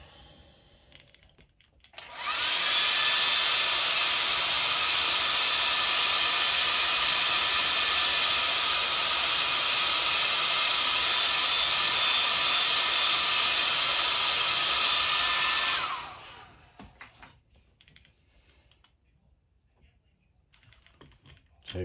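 A heat gun heat-setting a crafted lava piece switches on and blows a loud, steady airy hiss for about thirteen seconds, then cuts off, leaving quiet room noise with faint handling.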